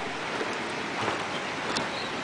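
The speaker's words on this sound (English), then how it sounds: "Water spilling into the reservoir up there." Water spills over a small hydroelectric dam into a reservoir, heard as a steady, broad rushing wash at moderate distance with a little wind noise, and no voices.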